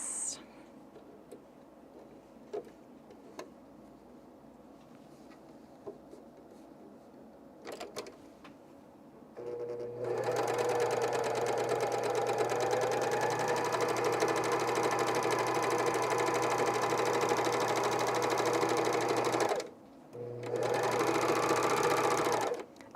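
Serger or coverstitch machine sewing a batch of underwear with picot elastic: a few light clicks and handling noises, then a loud, continuous high-speed whir that stops briefly and starts again up close.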